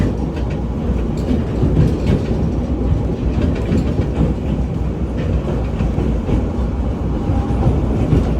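A passenger train on a Hawaiian heritage railway rolls steadily along the rails, with a continuous loud rumble and faint rhythmic clatter from the wheels.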